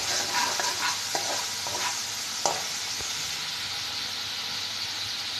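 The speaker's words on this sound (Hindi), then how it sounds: "ये ज़रा सा भून जाए।" Ginger, garlic and spices frying in a pan for mash (urad) daal, a steady bright sizzle with a few scraping stirs and clinks of a spoon, close and continuous with no talk.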